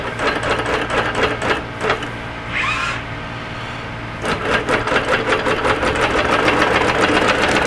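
A sewing machine bastes the layers of a quilt with soluble thread, its needle rattling in rapid steady bursts with a brief slowdown partway, loud and close.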